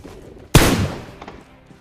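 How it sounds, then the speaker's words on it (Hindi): A single loud gunshot rings out in the mobile shooter game Fauji. The sharp crack decays over a fraction of a second, followed by a couple of faint distant taps against a quiet background. "वहाँ से भी गोलियां चलने की आवाज आ रही थी"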